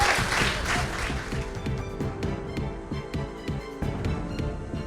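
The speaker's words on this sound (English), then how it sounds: "Give everyone a round of applause, please." An audience at a live podcast show at the London Podcast Festival claps together in a steady burst of applause, fairly loud and sustained for a few seconds.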